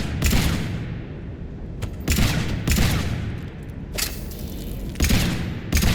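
Gunfire from the Mass Effect 3 Legendary Edition video game: loud, sharp shot bursts ring out repeatedly over about six seconds, spaced at uneven intervals over a steady background rumble.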